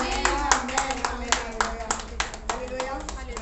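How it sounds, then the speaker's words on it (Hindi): A church congregation at a Friday fasting prayer meeting claps hands in a steady, loud rhythmic beat, sharp repeated claps over a background of music and murmuring voices. "ताली बजा के कहें आमीन"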